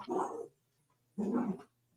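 Two short, rough dog vocalizations, each about half a second long and separated by a pause, sound close and fairly loud in an indoor setting.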